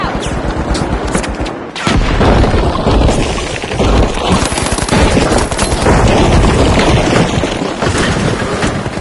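A frag grenade in The Finals video game goes off with a loud, dense burst amid rattling gunfire and crashing debris, a continuous chaotic barrage filling the whole stretch.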